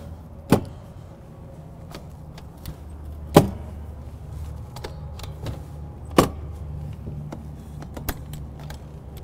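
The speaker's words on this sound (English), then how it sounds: "And I'll drop all the windows to show you they work." Power windows on a Bloomer trailer are lowered one after another. A steady low motor hum runs throughout, punctuated by sharp clicks and thumps at regular intervals as each window travels and stops.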